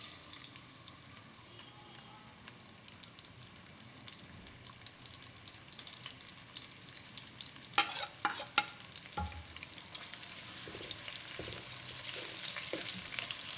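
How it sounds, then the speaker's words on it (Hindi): Onions frying in about a quarter cup of hot oil over medium heat, a soft continuous sizzle with stirring scrapes and a few sharper clinks partway through, close and without voices. "दरमियानी आंच पर तेल को गरम कर लिया है। अब इसमें प्याज शामिल करेंगे।"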